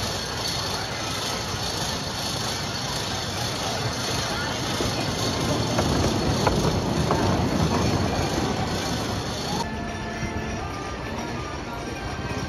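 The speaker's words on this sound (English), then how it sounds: "let's hop in it and experience our first ever ride on Phoenix" Wooden roller coaster ride on the Phoenix at Knoebels amusement park, a loud continuous rattling rumble of cars on track with clacking wheels, building and shifting midway, while riders' voices are faintly mixed in.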